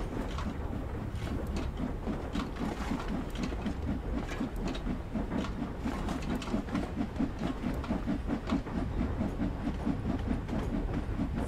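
Simulated steam locomotive with heavy wheel slip in Train Sim World on light snow, giving a steady loud chuffing roar with rapid rhythmic beats and hiss throughout, close and continuous.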